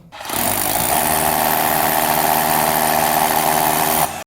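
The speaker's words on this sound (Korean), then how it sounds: "그리고 이 한마드릴 이걸 껴서" A hammer drill bores holes into a wall during sink faucet plumbing work, a loud continuous whirring drone that starts abruptly, holds steady for about four seconds and then cuts off, with no talking.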